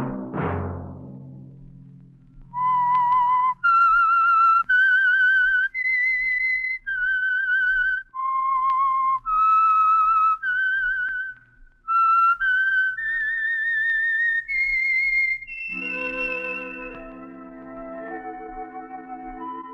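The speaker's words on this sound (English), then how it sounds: "Let that whistle be your signal for the Signal Oil program, The Whistler" Signature whistle of The Whistler, the Signal Oil radio mystery program: a lone, loud, clear whistled melody of sustained rising and falling notes, then orchestral music swells in at the end.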